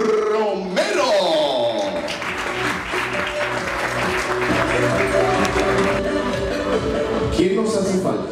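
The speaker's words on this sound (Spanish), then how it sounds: "necesito un fuerte aplauso para Mario y Esmeralda Romero" Wedding guests at a Christian wedding in Westbury, Long Island, break into loud, sustained applause that swells and holds, with music sounding underneath.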